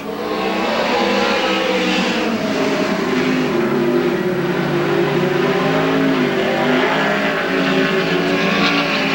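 Several midget race car engines roar together without a break, loud and close, their pitch rising and falling as four cars race through a corner at the 1990 Belleville Midget Nationals.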